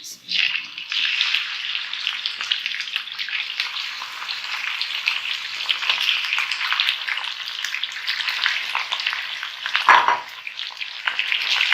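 Mutton browning in a karahi for a Lahori mutton karahi, a steady loud sizzle of frying meat across the whole stretch, with a brief stir or scrape near the end.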